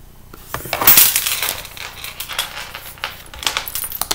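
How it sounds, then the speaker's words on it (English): A metal handbag chain clinks and jangles close by in several bright rattling bursts as the bag is handled and closed. "Sorry about the noise about the chain."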